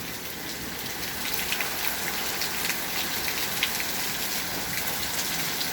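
Rain falls outside a balcony in a steady, even patter, a soft continuous wash of drops with no voices.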